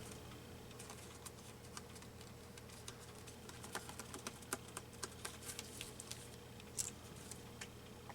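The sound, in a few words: scissors cutting paper for a stamped card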